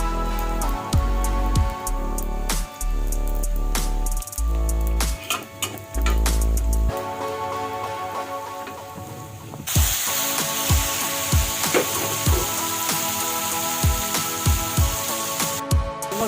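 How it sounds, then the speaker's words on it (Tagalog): Garlic sautéing in a pan for a shrimp-paste dish, with a steady crackling sizzle and scattered pops and ticks that turn louder and denser partway through as cooking intensifies, close by with no talking. "gigisa na natin yung bawang"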